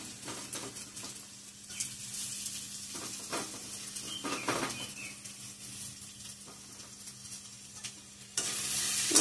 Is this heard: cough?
no